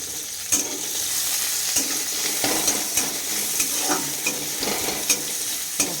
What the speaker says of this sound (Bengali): তেলটা গরম হতে পেঁয়াজটা দিলাম